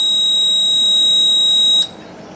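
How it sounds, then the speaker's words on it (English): An alarm triggered by a Raspberry Pi transmitter sounds one loud, piercing electronic beep held steady for almost two seconds, then cuts off abruptly into quiet room noise. "If I say alarm, it will beep."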